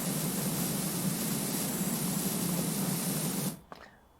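Steady, loud hiss of a pressure washer jet spraying in PowerWash Simulator, close and continuous for about three and a half seconds before cutting off abruptly into near silence.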